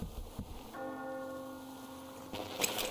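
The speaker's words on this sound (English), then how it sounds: "Do you hear that bell?" A single church bell rings in the video game Metro Exodus, one resonant struck tone sustaining for over a second and a half before fading, mid-distance under quiet ambient noise.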